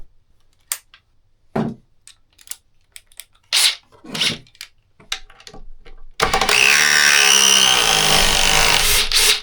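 A DeWalt XR 860 impact driver starts up after several seconds of scattered handling clicks and knocks, then runs loud and continuously with a buzzing, hammering drone to the end.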